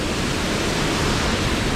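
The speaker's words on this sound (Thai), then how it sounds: "ที่ผมชี้ตะกี้นั่นคือน้ำตกตรงนี้" Rushing water from a waterfall at a mountain campsite near Betong, Thailand, fills the scene as a loud, dense, continuous roar with no pauses.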